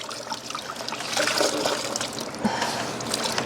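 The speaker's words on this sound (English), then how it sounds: "Got a bucket of fresh water. Rinse my rag out and just rinse him off right here." Water trickles and splashes softly and continuously as a goat is rinsed off with a rag wrung out in a bucket of fresh water, close by and alone.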